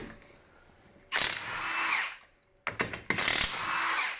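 An 18-volt cordless impact wrench, model 2767-20, rated at 1,400 foot-pounds of breakaway torque, runs in two loud, close bursts of high whirring rattle, the second preceded by short trigger blips.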